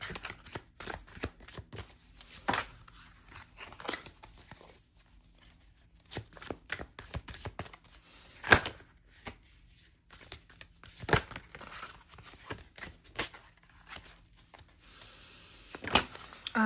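Tarot cards shuffled by hand to draw a single card, a repeated riffling and slapping of the deck in irregular bursts, close and crisp with no talking.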